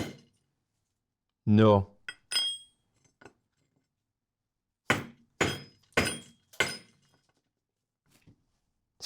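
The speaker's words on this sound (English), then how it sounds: "First, maybe I can chisel this one out." Chisel striking a rock hand sample to free a garnet mineral, a few sharp hard clinks and knocks spaced apart, loud and close, with a brief spoken word and otherwise near-silent pauses.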